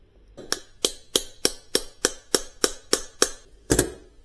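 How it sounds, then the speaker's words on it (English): Sharp metallic hammer taps on a swaging tool, expanding a 1/4 inch copper tube end while a dryer is prepared, about ten evenly spaced close strikes, with a slightly harder final blow after a brief pause. "I'm going to swage this out"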